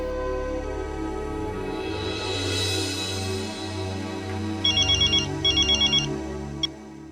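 A telephone rings in two short bursts of repeated electronic trilling over a steady background of music, followed by a single faint click, in a Hindi comedy scene after a call is placed.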